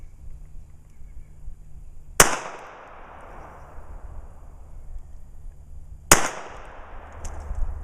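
Two sharp, loud shots from a Taurus TCP 380 pistol firing MagTech +P ammunition outdoors, spaced about four seconds apart, each a crisp crack followed by a fading echo over a low background hum.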